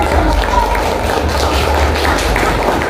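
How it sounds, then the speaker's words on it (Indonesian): Students in a classroom give a group a round of applause, with steady, dense clapping from many hands that lasts a few seconds without a break. "Tepuk tangan buat kelompok 1."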